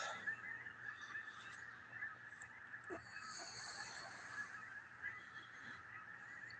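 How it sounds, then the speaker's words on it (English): Snow geese honking repeatedly in the distance, a chorus of nasal calls overlapping in an uneven rhythm against a quiet outdoor background. "Sounds like the snow geese."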